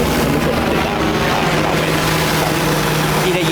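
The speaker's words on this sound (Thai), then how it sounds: "เสียงโดรนนะครับเราจะทำการฉีดพ่น" An agricultural spraying drone flies over a plot of land being prepared for durian planting, a loud, steady buzzing whine of rotors and motor that holds constant throughout, with wind-like rushing noise close to the microphone.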